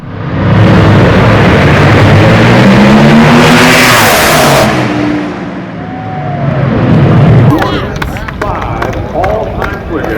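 Drag racing car accelerating down the strip at Mission Raceway, a loud sustained engine roar with rising pitch, fading somewhat midway then swelling again, with a crowd and voices underneath.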